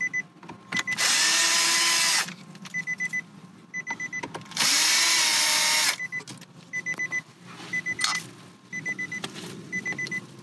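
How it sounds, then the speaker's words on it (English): Power drill backing screws out of the dashboard of a 2014–2017 Infiniti QX50: loud, close whirring bursts of about two seconds each, separated by quicker stuttering trigger pulses and clicks. "Next, let's remove these 2 screws right here."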